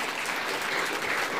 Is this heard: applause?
yes